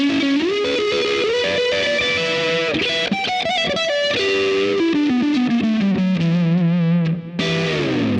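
Electric guitar played through distortion with a chorus effect, a loud, saturated run of sustained notes and quick melodic phrases, with one brief drop near the end.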